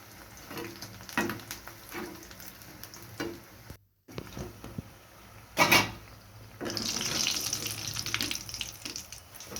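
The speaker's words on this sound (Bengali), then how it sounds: "এগুলোকে একটি কড়াইতে গরম তেলে ভেজে নিব।" Mustard flower pakoras fry in hot oil in a kadai, giving a soft, intermittent sizzle with scattered stirring and clattering bursts, fairly quiet and close.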